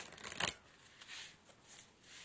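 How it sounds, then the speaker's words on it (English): Oracle cards from a Vintage Wisdom deck shuffled close by, a sharp riffling burst followed by softer sliding and shuffling of the cards, with no talking. "Let me shuffle. We're using the Vintage Wisdom deck for fun today."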